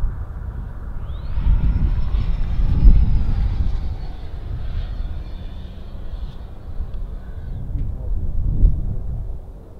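A Freewing F-22 model jet with 90mm electric ducted fans flying overhead, a high whining fan tone rising and then sustained, over rumbling wind buffeting and low outdoor noise that swells and fades.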